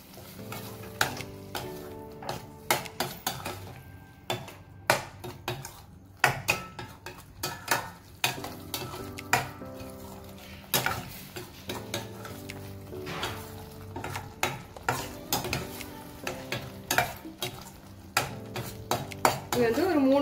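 Paneer cubes cooking in gravy in a pan, stirred steadily with a utensil that scrapes and clinks against the metal over a bubbling sizzle, with repeated sharp knocks throughout.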